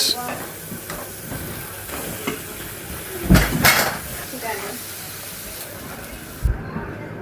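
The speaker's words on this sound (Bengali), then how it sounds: "এখন মাছ ভুনা করা হচ্ছে" Fish being fried and stirred down in a pan for bhuna, a steady hiss of sizzling oil with occasional scrapes and a louder clatter midway, heard up close alongside some speech.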